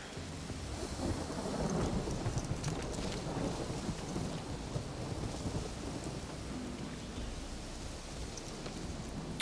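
Heavy rain and rolling thunder fill a stormy scene in the video game Witcher 3: Wild Hunt, a dense, constant downpour with low rumbles that stays loud and steady throughout.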